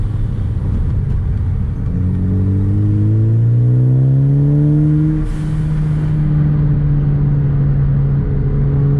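Ford Focus ST with a manual gearbox, driven on street tires, its engine droning loud and steady as the revs climb and then hold, heard from inside the cabin with no talking.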